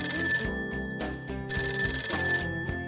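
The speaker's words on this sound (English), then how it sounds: "The phone." Telephone ringing in the video game Persona 5 Tactica, a loud electronic bell trilling in two bursts over a steady musical background, with no talk.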